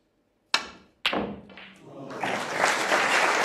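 A snooker cue strikes the ball with a sharp click, followed about half a second later by a second knock of balls colliding, then a swelling round of applause from a tournament crowd.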